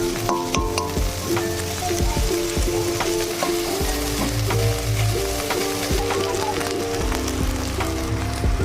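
Onions frying and being stirred in oil in a pan at home, a steady close sizzle with scraping stir strokes running throughout, no talk.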